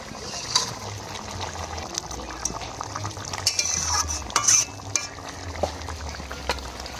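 Fried fish being added to a thick simmering fish curry, with soft stirring and scraping in the pan, light bubbling and liquid sounds, and a few utensil clinks, close and fairly quiet.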